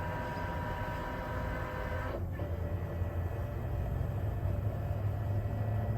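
A ScanNCut machine scans a coloring page with a steady, close mechanical whir and hum, one brief dip partway through, and no voices.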